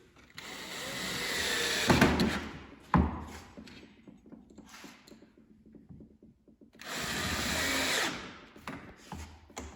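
Power screwdriver driving small 3.5x18 screws into the wood panels of a TV stand, two sustained whirring bursts separated by quieter handling and rubbing noises, fairly close.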